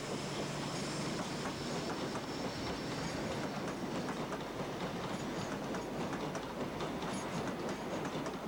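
An InterCity 125 high-speed diesel train passes through Leicester, a loud continuous rumble of wheels and engine with rhythmic clickety-clack sustained for the whole stretch, no voices.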